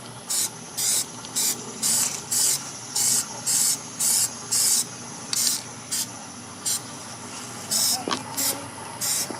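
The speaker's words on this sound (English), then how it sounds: "And the first coat is going to be a light spray." Plasti Dip aerosol sprayed in short, evenly spaced bursts onto the chrome bumper of a 2006 GMC Sierra pickup, a loud close hiss pulsing about twelve times over steady background noise.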